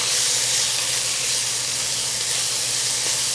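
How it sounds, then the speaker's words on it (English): Garlic sizzles in a hot pan with a steady, bright frying hiss, close and continuous. "I'm going to saute this garlic for just about a minute until it's nice and fragrant."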